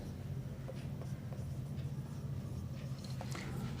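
Chalk or marker strokes on a board during a class 9 physics lesson on motion, faint scattered scratches over a constant low hum.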